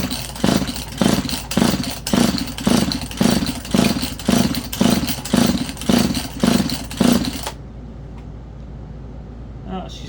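Husqvarna 238SE chainsaw engine pulled over repeatedly with the starter cord for a compression test, making about a dozen rhythmic, chuffing pulls in quick succession, loud and close, then stopping into near quiet.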